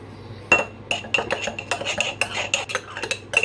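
A spoon clinks rhythmically against a cup or bowl while mixing half a sachet into liquid, a run of close, bright metallic taps and scrapes repeating roughly every quarter second.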